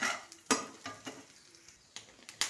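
Mustard seeds and cumin frying in a little oil, a faint sizzle broken by several sharp clinks and scrapes of stirring in the pan.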